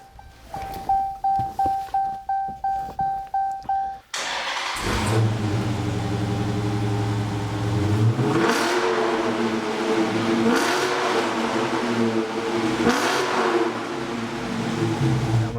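A warmed-up 2015 Dodge Challenger SRT 392 V8 starts with a rapid chain of starter clicks, then fires into a loud, close idle punctuated by several sharp revs that rise and fall.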